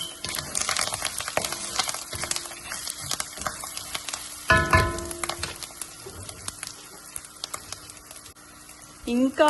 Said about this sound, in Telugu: చూడండి, పోపులన్నీ చిటపట